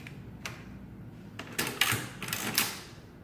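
A 1916 Burroughs Class 3 adding machine is operated: a few sharp mechanical clacks, then a louder cluster of ratcheting crank and lever strokes, close and alone in a quiet room.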